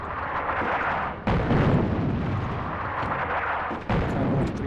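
Artillery fire in the wartime strategy game Attack at Dawn: North Africa, set at the First Battle of El Alamein, comes as dense rumbling booms that roll on continuously with two sharper, heavier blasts and no talking.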